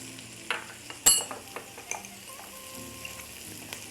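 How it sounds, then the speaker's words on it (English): Chili powder, black pepper and salt sauté in a pan with a soft continuous sizzle, broken by a sharp clank and several light scrapes and taps of a stirring utensil, with nobody talking. "we'll saute for 1 minute until the chili powder has a lot of fragrance"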